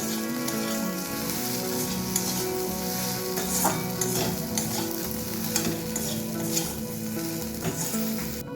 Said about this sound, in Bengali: এই সব উপকরণগুলোকে ঢেঁড়স আর পেঁয়াজের সাথে একটু নেড়ে নিচ্ছি।